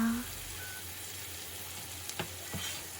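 Tofu browning in a pan for Korean braised tofu, a faint steady sizzle with a couple of soft clinks near the end.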